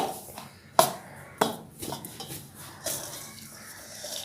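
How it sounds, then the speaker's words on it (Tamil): Sathu maavu flour being stirred with sugar syrup in a pan for puttu: a couple of sharp metallic knocks, then steady scraping and soft spoon-on-pan clatter, close and fairly quiet. "இதே மாதிரி கிண்டிக்கிட்டே இருக்கணும்"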